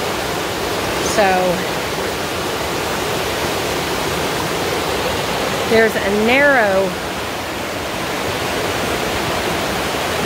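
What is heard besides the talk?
fast-moving creek water at a mountain creek crossing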